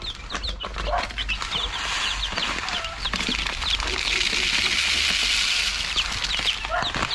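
Chickens and chicks cluck and peep continuously at a farm, a dense chorus of chirps and clucks at moderate distance, with occasional background noises.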